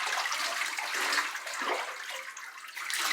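Running water splashing steadily during a Labradoodle dog's bath at home, a continuous close hiss of flowing water with slight variations throughout.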